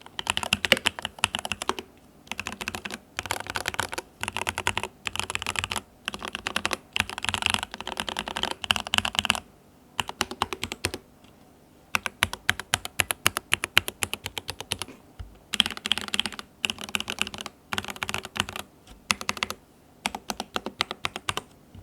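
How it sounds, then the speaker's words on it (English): Close, rapid typing on a Keychron K8 Pro mechanical keyboard with Gateron G Pro Red switches, bursts of clacking keystrokes separated by short pauses. "bring my microphone closer to the keyboard so you can hear the sound better"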